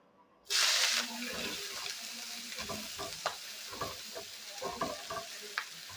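Finely chopped onion hits hot oil in a pan for an egg curry masala, bursting into a loud sizzle that settles into steady frying, broken by scrapes and clinks of stirring.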